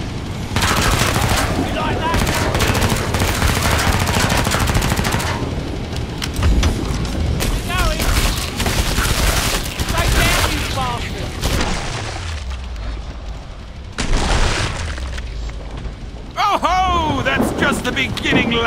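Relentless gunfire rips through the Killing Floor 2 video game as Zeds are shot aboard an airship, loud rapid bursts and automatic fire pounding near and continuous, with shouted voices and creature screeches breaking in amid the shooting.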